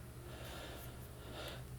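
Quiet, heavy panting from someone winded after climbing onto a bed, steady close breaths with soft snorting intakes and no talking.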